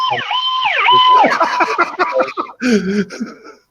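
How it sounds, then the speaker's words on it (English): A loud wailing fire truck siren sweeps up and down close by, followed by a shorter electronic yelp and traffic rumble. "No, that was a fire truck."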